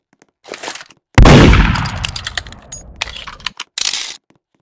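A gunshot in the Roblox game Murder Mystery 2 during a Christmas event one-on-one duel: one loud, sharp blast with a long fading tail, followed by scattered lighter clicks and clinks, with no voices.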